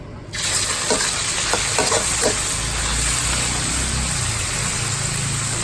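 Squid hits a hot, oiled pan with a loud, steady sizzle that stays close and constant, with a few sharp clinks of a utensil near the start.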